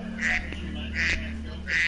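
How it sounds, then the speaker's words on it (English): Three loud, nasal duck quacks from a video game, each a short honking burst, spaced evenly over a steady low background hum. "We got some duck voice in this game."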